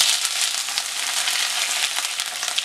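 Dried red chillies and curry leaves crackle and sizzle in hot oil after mustard seeds have popped, a steady close-up frying hiss with no voices, cooking for a jackfruit-seed thoran.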